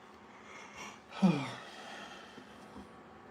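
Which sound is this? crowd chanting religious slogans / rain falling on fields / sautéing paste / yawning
yawning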